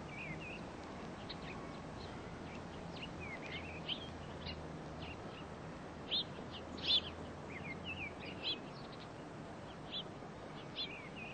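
Mistle thrushes in old yew trees give scattered, faint chirps and short song phrases over a quiet outdoor hiss, with a low steady hum beneath.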